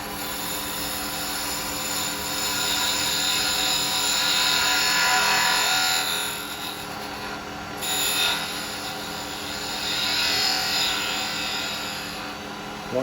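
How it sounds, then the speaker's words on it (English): A wood lathe spins a small scoop while a detail chisel cuts into it, a continuous whirring hum with a rising and falling hiss of the cut as the tool follows the line. "I want my detail chisel. What I'm going to do is I'm going to follow this cut down."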